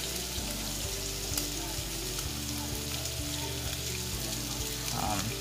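Onion and garlic fry steadily in a pan for saltfish, a continuous sizzle sitting under a constant low background hum, with no voices.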